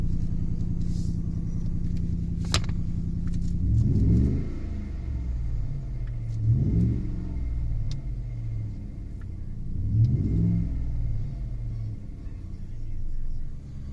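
A 2011 Ford F150 pickup idles after being fitted with new accessory belts, giving a steady low rumble with a few swelling surges, heard close and on its own.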